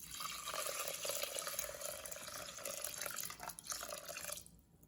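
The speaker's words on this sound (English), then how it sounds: "Now add your rice to the rice pot and add in 2 cups of cold water." Two cups of cold water poured into a pot of rinsed rice for coconut rice balls, a soft, continuous trickle and splash close by that stops abruptly at the end, no voices.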